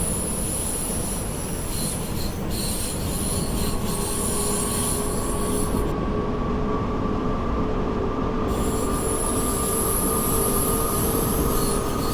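A BR442 electric train in a train simulator game runs steadily with a continuous rumbling drone and a high electric whine, wheels humming along the track for an extended stretch.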